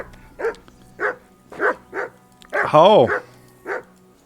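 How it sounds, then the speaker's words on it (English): A dog barks in the video game Kingdom Come Deliverance II, a steady string of sharp barks about every half second with one longer whining bark, loud and close, while a voice speaks briefly. "Whistle at that mutt of yours to stop barking!"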